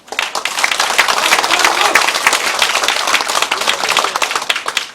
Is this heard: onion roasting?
no